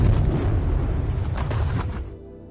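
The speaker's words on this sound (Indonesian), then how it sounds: "Setelah detonator ditekan untuk meledakkan tempat itu" A deep, rumbling boom from explosives set off to blast open the ground rolls on for about two seconds before fading.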